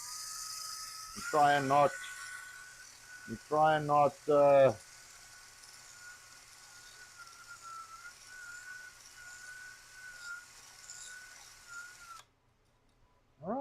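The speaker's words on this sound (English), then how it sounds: "So let's just whisk this up a little." Cheese spread dip being whisked, giving a steady buzzing whir that runs continuously under brief bits of talk before cutting off abruptly near the end.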